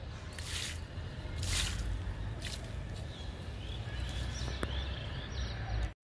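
Liquid treatment for mildewed, curled leaves is sprayed onto flowering garden plants in a few short, close hissing bursts, each lasting under a second, over a steady outdoor background hum with faint birds, and no one talking.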